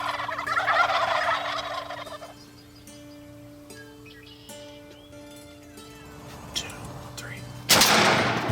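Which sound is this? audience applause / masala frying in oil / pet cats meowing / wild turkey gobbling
wild turkey gobbling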